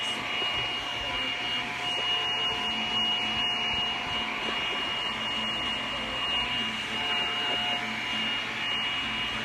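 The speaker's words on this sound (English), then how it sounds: "I'm just heating up the epoxy just a little bit to make sure that it do soak it in" A heat tool runs steadily over epoxy resin being warmed for a mica powder piece, a continuous close blowing whir with no pauses, alone without talk.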